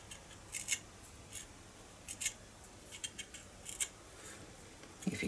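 Scissors snip the small tops off a model bunker building for a tabletop wargame, a series of faint, close clicks and short cuts spaced irregularly over a few seconds.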